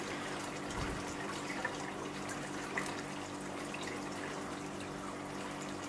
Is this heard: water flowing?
yes